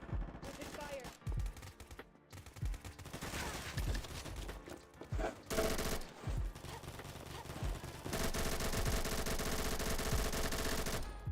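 Dense bursts of automatic gunfire in a video game, rapid rattling volleys broken by short pauses, loud and close throughout.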